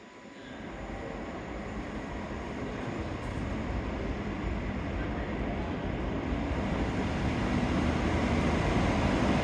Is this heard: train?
yes